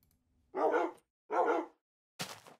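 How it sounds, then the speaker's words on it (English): Dogs bark in the Minecraft Beta 1.7.3 video game, three separate barks spaced about a second apart, clear and fairly close with no talk over them. "We're gonna look for these dogs."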